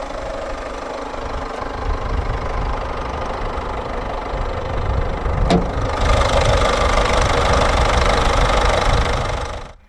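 A 2016 Citroën C3 1.6-litre BlueHDi turbodiesel inline-4 engine idles steadily with a rough, knocking clatter; the sound grows a bit louder and brighter partway through, then cuts off at the end.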